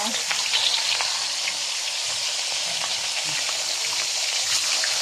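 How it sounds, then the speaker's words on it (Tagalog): Steady, close sizzling of pork frying in hot oil in a pan, a dense crackle with scattered pops, continuous throughout with no voices. "Iprito mo lang siya."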